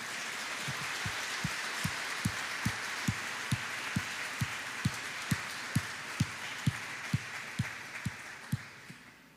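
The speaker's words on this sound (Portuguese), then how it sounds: "Por que não dá um aplauso?" Church congregation applauding during a sermon: a broad wash of many hands clapping, with a steady beat of low thumps keeping time underneath, continuing for several seconds before fading slightly.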